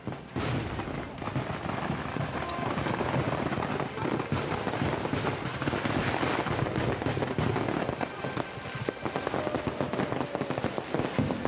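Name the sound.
temple festival fireworks during accident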